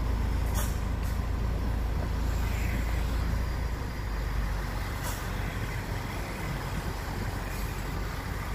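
A large truck rumbles on the Gunung Gumitir mountain road in East Java, a steady low engine drone with traffic noise throughout and a few brief hissing bursts like air brakes.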